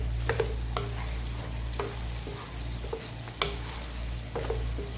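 Chicken masala mixture frying in a pan on a low flame, a steady soft sizzle with a low hum throughout and several sharp scraping stirs of a spoon at irregular intervals, close and alone.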